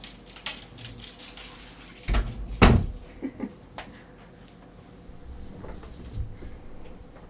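A studio door clunks and rattles open with a couple of sharp knocks and thuds, followed by softer shuffling and bumps, close and fairly quiet.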